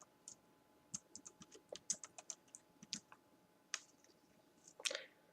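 Keys tapped on a small computer keyboard, a quiet, close sequence of irregular clicks, about fifteen presses, ending in a brief louder clatter.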